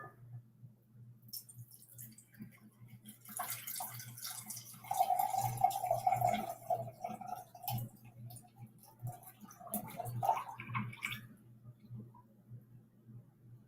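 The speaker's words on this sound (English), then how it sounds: "So what I'm going to do here is I'm just going to drain off the water." Water pours and trickles out of a jar as soaked seeds are drained, a soft splashing stream rising and falling over several seconds against a faint steady hum.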